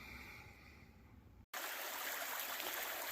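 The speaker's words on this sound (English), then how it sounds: "Welcome to Betty's Creek. This will be tonight's water source. A pretty little creek." Small mountain creek flowing along a trail in the southern Appalachian backcountry, a steady close hiss of running water that cuts in abruptly after a quiet, low rumbling stretch.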